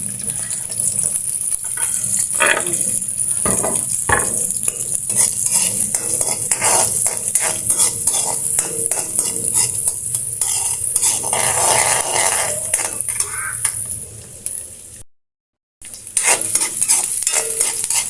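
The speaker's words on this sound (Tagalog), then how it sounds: "magigisa na tayo ng ating sibuyas at bawang" Onion and garlic sautéing in a pan, with a steady sizzle and frequent scraping stir strokes running throughout and a brief gap near the end.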